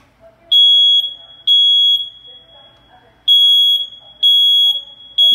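Smoke alarms sound in a fire alarm system test in a house, repeating piercing high beeps in short bursts with pauses between, loud and close, with faint talk in the background.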